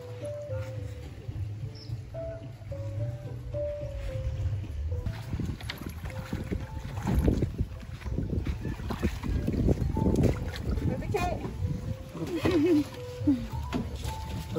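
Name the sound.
Filipino bangka boat ride on the water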